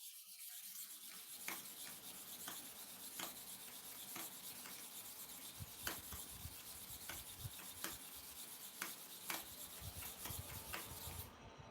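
A clipper blade is sharpened with a repeated rasping rub, evenly spaced strokes roughly every second, faint and close, with no talking.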